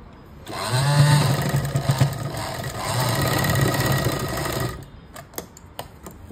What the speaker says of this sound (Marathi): अशी व्यवस्थित असं पकडून पूर्ण भागाला शिलाई मारून घ्यायचे.